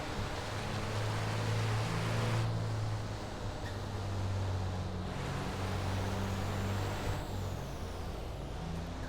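Trucks in a racing video game on the Bremgarten circuit drone with a continuous, loud engine roar and broad hiss, pitch shifting slightly as they run, with no talking.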